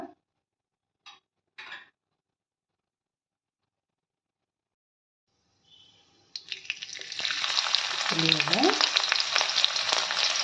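Mustard seeds and cumin hit hot oil in a pan while dried prawn fry is being prepared. A few faint clicks come first, then a loud, continuous sizzle starts near the end and builds. No one talks.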